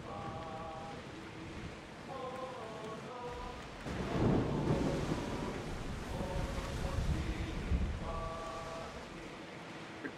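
Thunderstorm at sea in Assassin's Creed Odyssey, with rain and waves roaring steadily, a heavy thunder rumble swelling near the middle, and brief repeated tonal chimes from the game over the storm.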